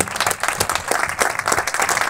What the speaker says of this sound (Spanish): Un fuerte aplauso para la jovencita.